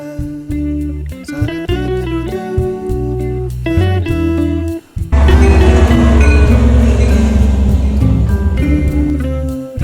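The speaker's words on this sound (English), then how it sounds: "Train right here" A train in Chicago rumbles loudly nearby with a sustained low drone, tonal horn-like blasts starting and stopping, then a dense roar of passing cars.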